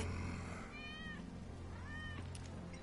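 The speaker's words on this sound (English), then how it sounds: "That's Wedge's cat." A cat in the Final Fantasy VII Remake video game meows twice in quick succession, close and clear, over a steady low ambient hum of the game scene.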